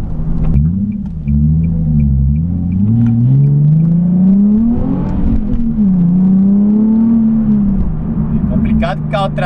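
A rear-wheel-drive Nissan 370Z accelerates hard on worn, non-original tyres, its engine droning loud and close as the pitch rises and wavers, while someone talks over it in Portuguese.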